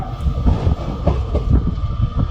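The Sabari Express runs on the rails with a loud, steady rumble and a rhythmic clickety-clack of the wheels, heard from inside the moving train.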